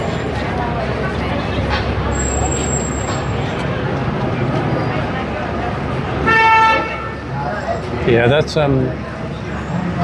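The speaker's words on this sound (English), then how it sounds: "You can probably hear there's an awful lot of traffic queued up along Whitehall because of the fact there's only one lane open." Heavy traffic queued along Whitehall in London, a steady roar of idling and crawling vehicles with a loud horn toot partway through, a second honk later, and a person speaking briefly over the din.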